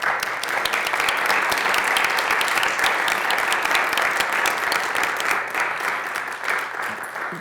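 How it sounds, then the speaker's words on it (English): An audience at a school board meeting applauds the Saco students with loud, sustained clapping that runs throughout, steady and close, with no voices on top. "I just would like to applaud all of their hard work"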